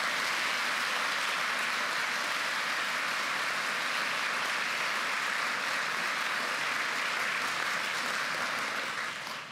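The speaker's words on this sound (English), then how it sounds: "Let's give them a round of applause." An audience at a 2016 college commencement claps in loud, sustained applause that holds evenly as a dense wash before easing slightly at the end.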